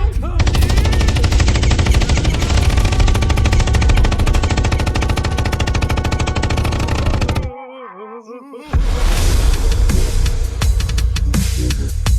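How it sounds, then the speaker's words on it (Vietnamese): Rapid automatic gunfire from a drama sound effect, a loud sustained machine-gun burst that rattles on for several seconds, stops briefly, then resumes with more shots. "Hắn đã bắn mất mạng Long Ca rồi"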